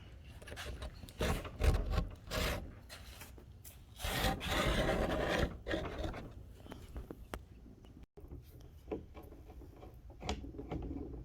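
A sharpened old screwdriver used as a chisel scrapes along the metal of a bus window frame, in uneven rasping strokes, close and fairly quiet, with pauses between bursts.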